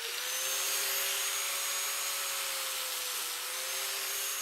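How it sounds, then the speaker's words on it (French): An angle grinder cuts through a Kevlar tube, giving a steady, continuous high-pitched whine with broadband grinding hiss that holds at an even, loud level without pause. "Une disqueuse."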